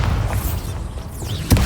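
Confringo and Bombarda spells are cast in the Hogwarts Legacy video game, producing a continuous loud booming rumble with whooshing sweeps, then a sharp explosive impact near the end.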